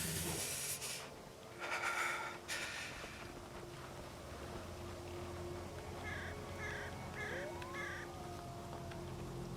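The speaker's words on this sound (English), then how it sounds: "See that crow over there? Try to scare it away." A crow caws in the snowy survival game Winter Survival, with a few short calls early on and a quick run of repeated chirping notes later, all over a low, steady wind-like ambience.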